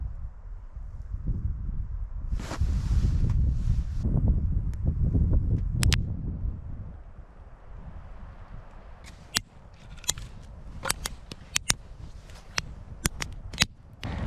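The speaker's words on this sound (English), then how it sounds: "It is windy as hell out here." Strong wind buffets the microphone at a winter campsite, a loud, steady low roar for the first six seconds that eases afterward, leaving scattered sharp clicks and crackles.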